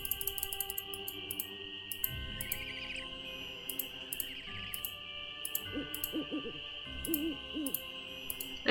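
Soft owl hoots sound twice in Nancy Drew: Ghost Dogs of Moon Lake, short wavering calls at a distance. Eerie sustained game music and a high steady drone play throughout underneath them.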